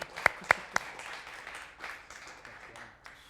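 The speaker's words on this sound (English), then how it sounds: "One more hand of applause, if you would." Applause from a concert audience after a Beethoven cello performance, a few sharp distinct claps at the start giving way to a soft, diffuse patter of clapping that fades toward the end.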